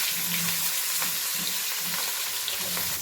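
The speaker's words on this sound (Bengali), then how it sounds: "তারপরে আমাকে পুরোটা ভেজে নিই।" Pieces of katla fish fry in oil with a constant loud, hissing sizzle, broken by a few soft low thuds and spatters as they cook.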